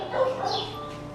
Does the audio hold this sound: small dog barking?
yes